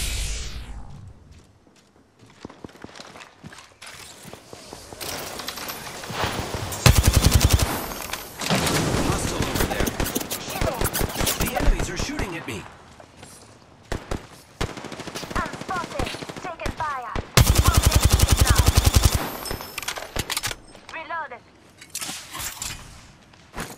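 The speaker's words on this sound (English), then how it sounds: "They're shooting at me." Sustained automatic gunfire from the video game Apex Legends rattles in long, loud bursts separated by brief pauses, with a voice speaking at points among the shots.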